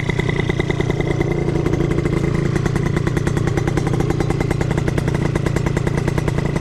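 A scooter engine idles with its exhaust running, a loud, steady, rapid putter close by that stays even throughout with no talking.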